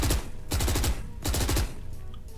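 Rapid automatic gun sprays in the Valorant video game, two loud bursts of quick shots separated by a short gap, then a fainter tail, with no talking.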